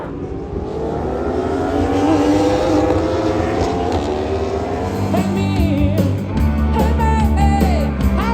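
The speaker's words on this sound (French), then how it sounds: "Avec le petit bruit du ronronnement des motos derrière" Racing motorcycles at the Bol d'Or endurance race, heard from a trackside spot at sunset: engines drone and whine, with rising and falling pitch as bikes accelerate and pass, continuous and fairly loud, no talk.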